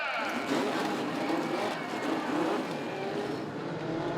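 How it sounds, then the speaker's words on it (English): Several race car engines at Langley Speedway roar and rev together at close range as a Legends race starts, a dense, loud mechanical drone with pitch sweeping up and down. "Gentlemen, start your engine."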